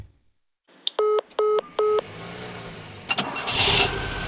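A phone call is cut off in a Bengali detective audio drama, heard as three short, evenly spaced electronic beeps, followed by a car engine cranking and catching, loud and close.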